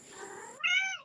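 A pet cat meows indoors in one drawn-out, rising call, close and clear, following a softer stretch of background sound with no talking.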